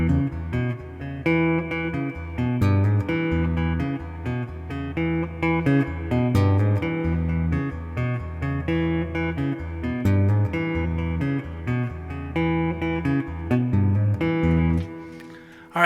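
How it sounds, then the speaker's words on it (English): A finger-picked guitar vamp from a song plays alone: a steady, rhythmic pattern of plucked notes and bass, moderately loud and close throughout. "so I've started off my arrangement with that nice little finger picking vamp he does"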